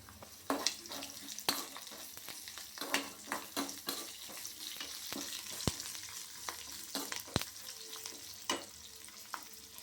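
Brinjal frying in a pan for Andhra vankaya pachadi, a steady close sizzle broken by sharp clicks and scrapes of stirring, with no talking.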